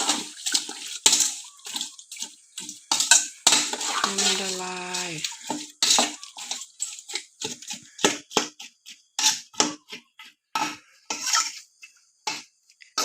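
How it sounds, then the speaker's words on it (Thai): A utensil stirring seasoning into a pot for a home-cooked Thai dish, heard as a series of irregular clinks and scrapes with a brief splash of water partway through, close and fairly loud, with no talk. "คนให้ผงปรุงละลายนะคะ"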